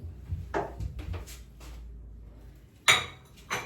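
Plates and cutlery clink and clatter at a table in several sharp, separate knocks. One louder ring of ceramic stands out near the end, over a low background of room noise.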